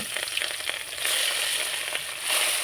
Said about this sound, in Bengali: মাছগুলো দিয়ে আমি ভেজে নেব